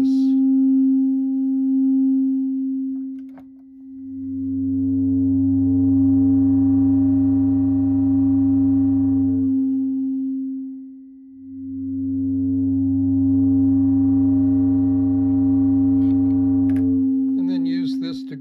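Steady unmodulated tone from a Buchla 258 oscillator, a bright sustained pitch with stacked harmonics, played loud and alone in two long held notes separated by a brief dip.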